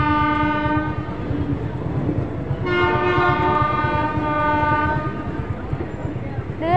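Passenger train arriving at Dhuri junction, its horn sounding in long sustained blasts over a steady rumble and clatter of wheels, loud and close throughout.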